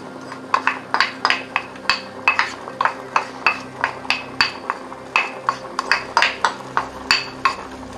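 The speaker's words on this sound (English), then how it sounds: "Now I put in my apples." Apples drop one after another into a pot, making a quick, irregular run of close clinks and knocks against the metal over several seconds. There is no talking.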